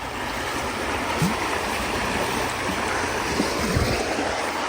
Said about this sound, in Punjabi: ਇੱਥੇ ਪਾਣੀ ਤੇਜ਼ ਆ ਥੋੜਾ